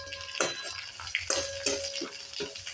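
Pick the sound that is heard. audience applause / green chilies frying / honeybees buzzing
green chilies frying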